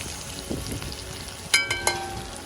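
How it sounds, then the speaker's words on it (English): Onions, scallions, thyme and pepper cook down in a pan on a Jamaican island in Portland, making a sauce for fish, with a soft steady fry and a few sharp clinks near the end. "onions and scallions and thyme and pepper. Yeah, cooking down to make the sauce for the fish"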